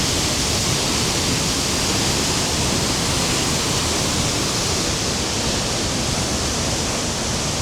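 A roaring Icelandic waterfall in winter, heard up close as a steady, dense broadband rush of falling water and mist with no pauses, loud and alone throughout.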